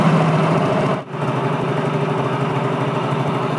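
A motorcycle engine idles steadily after its idle speed has been adjusted, a close, even putter with one brief dip before settling back to a smooth, continuous rhythm.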